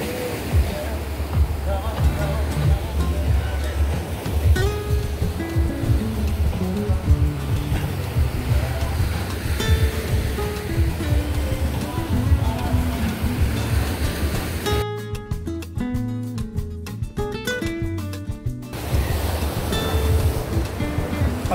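Surf washing onto White Beach in Misamis Oriental, a steady rushing wash of waves that runs throughout, with wind buffeting the microphone and people's voices nearby.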